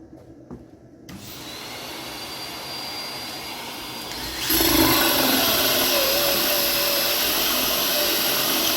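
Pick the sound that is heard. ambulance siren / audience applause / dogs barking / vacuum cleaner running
vacuum cleaner running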